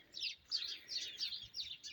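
Sparrows chirp in a spring garden in Ukraine on a late-March evening, a run of about six quick, bright bursts of tweets, fairly faint over a quiet background.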